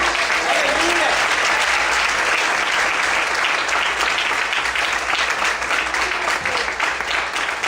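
A church congregation at an evangelistic service in Brasilândia breaks into sustained, loud, dense applause that fills the room without pause, with voices audible beneath it.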